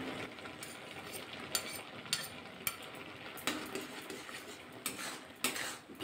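Kalakand milk mixture cooking with ghee in a pan, stirred with a metal spoon: a soft continuous sizzle under sharp scraping clinks against the pan at an uneven pace, close up.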